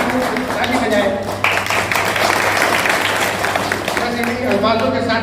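Audience clapping at a Nationalist Congress Party minority wing district meeting, steady dense applause filling the room for several seconds with voices mixed in.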